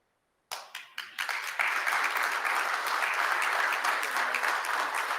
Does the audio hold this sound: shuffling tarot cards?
no